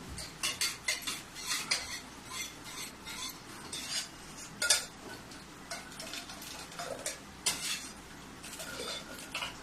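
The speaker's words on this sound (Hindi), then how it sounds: "दाल को मैं थोड़ा सा मिला देती हूँ।" A utensil stirs dal into tempering in a pan, giving light, irregular metallic clinks and scrapes at a low level with no talking.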